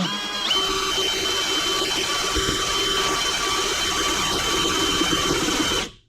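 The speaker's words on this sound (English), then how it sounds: "I'll go ahead and be right back with you and we'll get that drilled out." A power drill bores an entrance hole in a wooden post-top bird house, a steady, close, high whirring drone that holds for several seconds and then cuts off.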